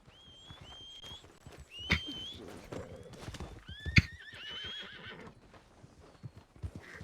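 Horse hooves clip-clop and a horse neighs sharply twice in a video game with friendly fire, heard under ongoing player chatter and game effects.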